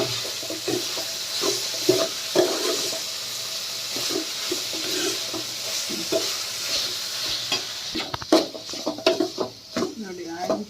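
Tomatoes sizzle and fry in a pan of bitter gourd curry, with steady broadband hiss, intermittent stirring scrapes and sharper clinks of a utensil against the pan toward the end; no talk over it.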